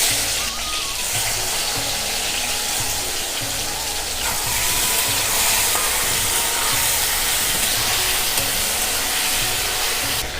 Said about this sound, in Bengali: ওই তেলেতে